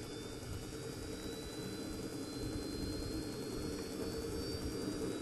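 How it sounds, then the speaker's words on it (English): A jet engine spools up, a loud sustained roar with a thin high whine running through it, building steadily and staying constant throughout with no voices. "When it gets all those parameters correct, the engine will light up, fire off, and start to throttle up."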